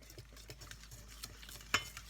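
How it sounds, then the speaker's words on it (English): Cookie batter with butter and vanilla being whisked by hand in a bowl, a soft, quiet scraping and tapping repeating in a steady rhythm, with one sharper clink near the end. "Add that fragrant vanilla, and then you got to whisk away"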